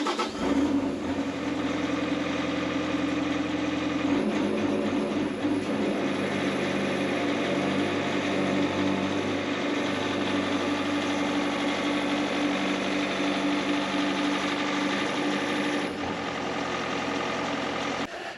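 A Bobcat Toolcat 5600 engine runs at a steady idle while the machine steers from full lock to full lock, with a low rumble and shifts in load partway through.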